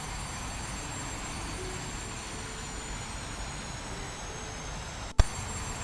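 Inside a Douglas DC-9-32 jet airliner in flight at around 225 knots, a steady broadband engine and airflow roar holds evenly, ending with a sharp click near the end.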